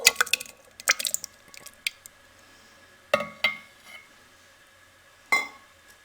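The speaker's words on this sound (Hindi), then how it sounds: "सबसे पहले हम ग्राइंडर में दही डाल देंगे।" Yogurt spooned into a grinder jar for a besan batter, giving a few wet plops, drips and light glassy clinks, scattered and close, with quiet gaps between them and no talk.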